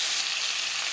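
A rohu fish head fries in hot oil in a pan, giving a steady, dense sizzle that stays close and even throughout, with no voices.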